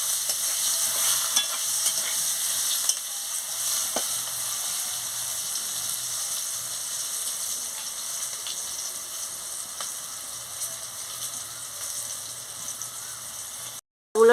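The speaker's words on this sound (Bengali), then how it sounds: "দিয়ে উচ্ছেটাকে আমি ভালো করে ভেজে নিচ্ছি।" Bitter gourd salted and dusted with turmeric fries in a pan with a steady, close sizzle that carries on evenly throughout, with a few light stirring scrapes and no talking.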